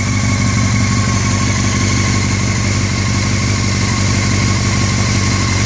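A Honda CBR 600 F4i stunt bike's engine runs steadily nearby, a loud, even, droning idle with a constant hum and no talking.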